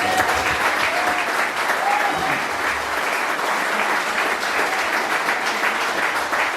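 At an end-of-season awards night, an audience applauds the club staff with sustained, even clapping from a large crowd, moderately loud and unbroken throughout.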